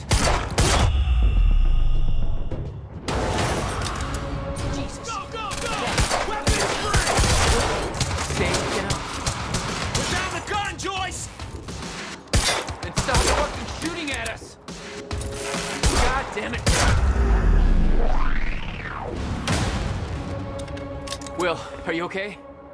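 Heavy bursts of gunfire in the Quantum Break video game, loud rapid fusillades with sharp shots spread across the scene, mixed with music and effects while people talk over the action.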